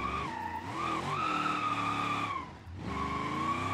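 Tires skidding as a car drifts in BeamNG.drive driven on a MOZA R21 direct-drive wheel: a loud, wavering squeal over engine drone, briefly dropping out midway before resuming, with no talk.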